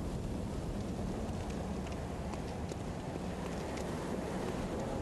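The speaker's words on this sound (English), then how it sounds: "It's very windy up here." Wind blows steadily in the Bloodborne video game, a broad, constant roaring rush with faint scattered clicks on top and no talk.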